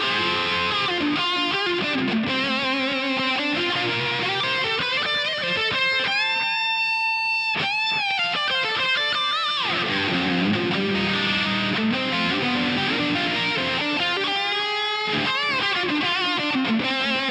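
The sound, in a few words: electric guitar through overdrive pedal boost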